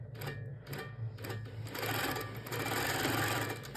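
Handi Quilter Pro Stitcher quilting machine stitching along the bottom edge of a quilt, a close mechanical rattling hum that starts, pauses briefly, then runs on steadily.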